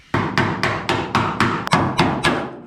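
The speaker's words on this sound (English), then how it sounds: "Back to the chisel." Hammer striking a chisel to chip rusty metal from the driver's side sill of an HQ car, about nine sharp metallic blows in a steady rhythm, close and loud.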